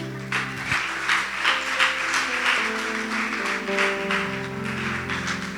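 A church congregation claps for the Lord in a steady rhythmic applause, moderately loud and continuous, over a sustained organ or keyboard chord.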